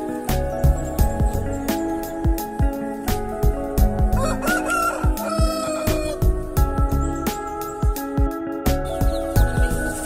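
Backyard roosters crow repeatedly among clucking chickens, with sharp clicks and knocks scattered throughout and no talking.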